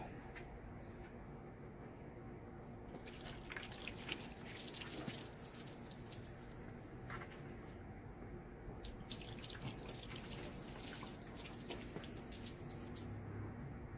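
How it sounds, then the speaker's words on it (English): Water runs steadily over a car finished with a MR FIX 9H nano-ceramic coating, a continuous splashing wash as it beads and sheets off the paint, with faint background noise throughout. "Just run some water over it and see how it beads up."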